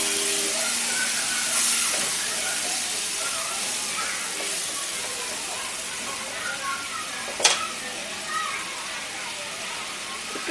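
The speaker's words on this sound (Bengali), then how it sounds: "সামান্য একটু জল দিয়ে মশলাটাকে একটু কষিয়ে নিচ্ছি।" A spice paste of Kashmiri red chilli powder and turmeric fries with a little water for a banana-stem kofta curry, giving a steady, loud broadband sizzle and hiss throughout, with a brief clink of a utensil near the end.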